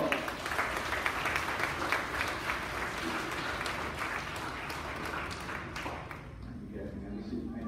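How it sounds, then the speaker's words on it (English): Audience applause at a kindergarten graduation ceremony, a steady sustained round of clapping from a crowd that thins out toward the end. "Let's get the perfect attendance award winners one more round of applause."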